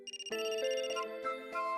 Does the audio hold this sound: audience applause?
no